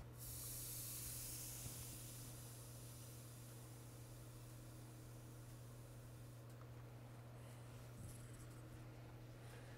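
Steam hissing steadily against a 1903 Springfield rifle stock, a faint continuous airy hiss with a low hum beneath, no talking.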